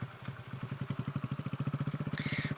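Kawasaki Z125 motorcycle fitted with an aftermarket exhaust, idling close by with a steady, rapid, deep pulsing beat that swells slightly as the throttle is blipped, heard alone.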